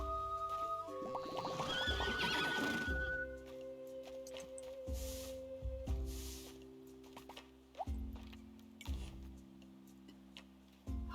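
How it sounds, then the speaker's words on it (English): A horse in the farming video game Roots of Pacha gives a bright whinny that rings out over the game's gentle looping music and soft ticking, with no talk. "Ah, one more horse."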